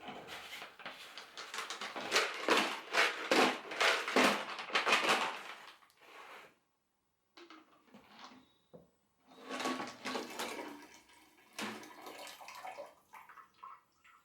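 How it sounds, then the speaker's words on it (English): Water is poured into a small bowl to rinse out the last of an organic indigo dye, giving splashing and sloshing in bursts with a quiet pause in the middle, close and fairly soft. "So I'm going to put a little bit more water in"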